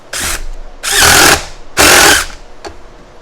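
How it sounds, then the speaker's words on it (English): Impact driver sinking screws into salvaged barnwood for a rustic bench, three loud close bursts of whirring and hammering, the second and third longer, separated by short pauses. "And I'm going to use my impact driver."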